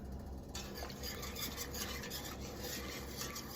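A whisk stirs a half-and-half and butter sauce in a pan, giving a continuous scraping, swishing rub against the metal, soft and steady throughout.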